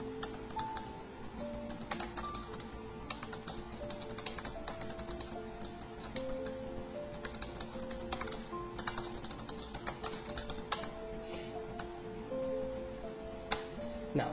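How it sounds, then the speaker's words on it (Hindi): Steady, quiet typing on a computer keyboard as names are entered into a Microsoft Word 2007 document, with fast clustered key clicks and brief pauses throughout. "एम्प्लॉयज के नाम जो है वो बुलेट ऑर्डर में टाइप कर देता हूँ"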